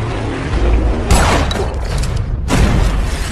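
A bomb detonates in a war film scene, a loud sudden boom with debris crash and rumble, followed moments later by a second heavy impact burst over continuous low background roar.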